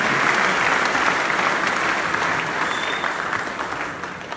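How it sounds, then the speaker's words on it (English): Congregation giving a hand clap during a church service, many palms striking together in a thick, even burst that starts loud and fades gently over a few seconds. "let us welcome the Holy Spirit today with a hand clap"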